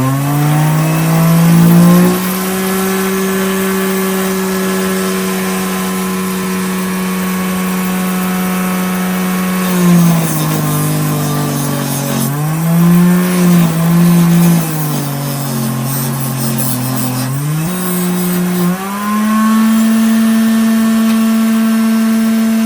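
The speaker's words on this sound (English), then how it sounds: "take those on the fiber wheel over there and clean it all up" A fiber buffing wheel spins steadily against a World War 2 knife being cleaned up, a loud continuous motor whine that dips and wavers in pitch as the blade is pressed into the wheel, with no voices.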